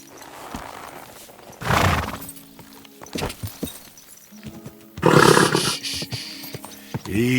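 A horse in Kingdom Come Deliverance 2 snorts and gives loud neighing bursts amid shuffling hooves and game ambience, with no talk.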